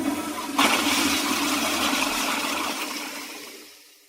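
A toilet flushing in a bathroom: a loud rushing gush of water that swells suddenly, churns steadily, then fades as the bowl drains, heard alone without voices.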